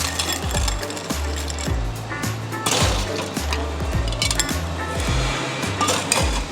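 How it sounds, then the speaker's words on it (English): Ice cubes clink and rattle as they are piled into a glass to the brim for a gin and tonic made with craft hopped gin, with dense, rapid chinking and knocking up close and no talking. "we're gonna ice that up all the way to the top"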